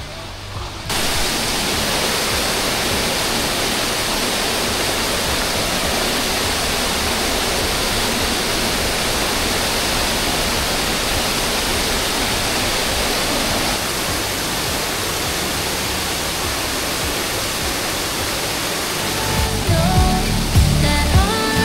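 Seven Falls in Sultan Kudarat roars as a steady, loud broadband rush of falling water that runs unbroken and close, with a brief low rumble near the end.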